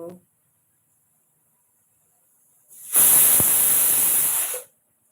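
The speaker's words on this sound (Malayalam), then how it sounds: "അതാണ് ചെറിയ ഒച്ച ഒക്കെ കേൾക്കുന്നത് കുക്കർ അടുപ്പത്ത് വെച്ചിട്ടുണ്ട്" In a kitchen, after a quiet stretch, a pressure cooker on the stove lets out a loud sharp burst of hissing steam, like a whistle, that rushes for about two seconds and then cuts off.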